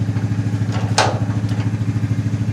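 A John Deere tractor engine runs at a steady, loud idle with an even chugging pulse and a brief clatter partway through, close up with no talking.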